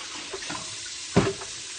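A kitchen tap runs while an item is rinsed beneath it, a soft close trickle with one brief louder splash near the end and no talking.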